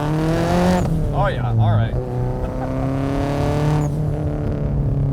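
A turbocharged Subaru Impreza STI making 353 horsepower at the wheels accelerates hard, its engine note rising steadily through the gears, loud and close, with a brief excited voice over the top.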